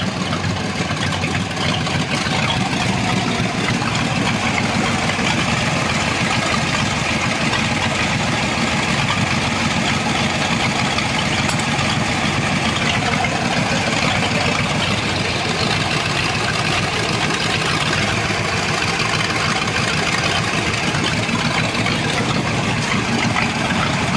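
A Chevy Impala with a 406 engine idles steadily and loudly, a continuous low rumble with no breaks and no talk over it.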